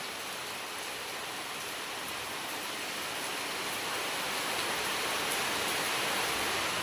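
Heavy rain pours steadily over a yard where coconut-tree pits have been dug, a dense continuous hiss that swells slightly louder toward the end, with no voices.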